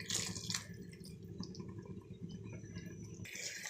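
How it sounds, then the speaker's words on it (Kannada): Water poured into a mixer jar while making tomato gojju, a steady, close, moderately quiet trickle and splash running through the whole stretch with no voices. "ಮಿಕ್ಸಿ ಜಾರ್ಗೆ ಸ್ವಲ್ಪ ನೀರು ಹಾಕ್ಕೊಂಡು ಹಾಕ್ಕೊತಾ ಇದ್ದೀನಿ"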